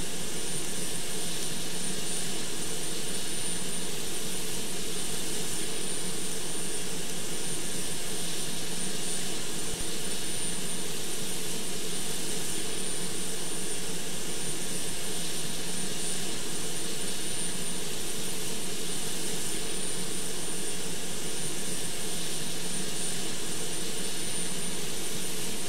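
Aircraft engine noise from a flight simulator game runs as a continuous, loud, unchanging hum with a steady whine on top, unbroken for the whole stretch and with no talking.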